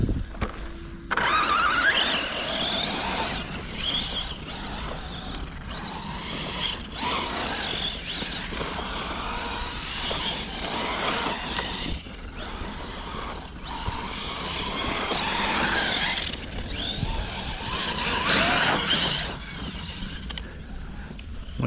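A Tekno RC truggy's electric motor runs with a loud, rough whine and mechanical rattling, surging and cutting out in repeated stutters as it suffers intermittent power cuts.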